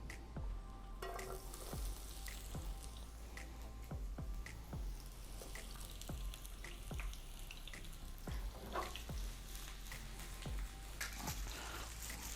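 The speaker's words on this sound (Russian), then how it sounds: "обжарим овощи." Vegetables frying in a pan give a continuous soft sizzle with regular light taps and scrapes of a utensil, steady and close, with no one talking.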